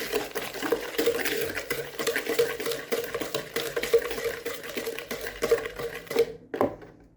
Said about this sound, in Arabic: غادي نحركهم